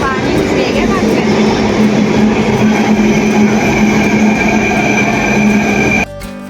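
A metro train runs with a loud, steady rumble and a sustained mechanical whine, with faint voices underneath, before the noise cuts down abruptly near the end.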